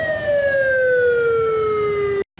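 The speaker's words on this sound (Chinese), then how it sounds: "警车一辆辆出动" A police car siren wails loud and close in one long, slowly falling tone as police vehicles head out on a night inspection patrol in Taoyuan, then cuts off abruptly.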